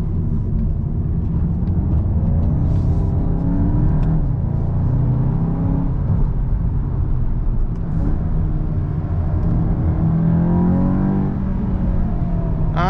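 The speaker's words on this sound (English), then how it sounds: "it will automatically upshift. It won't bounce off the rev limiter." A 2023 Volkswagen Golf GTI engine roars steadily as it accelerates, its pitch climbing and dropping with automatic upshifts, loud and close, with no talking.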